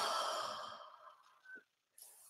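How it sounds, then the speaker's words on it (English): A slow inhale during a guided meditation, a breathy sigh-like draw of air that fades out, followed by a short soft sound and a faint rustle near the end. "So breathing in."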